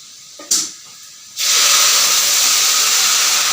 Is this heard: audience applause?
no